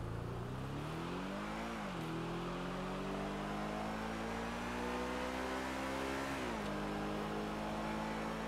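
A sports car engine drives in GTA 5 Online, with a continuous revving drone whose pitch climbs and then drops twice at gear shifts.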